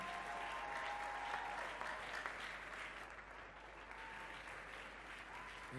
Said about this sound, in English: If you came out, let's keep clapping, please.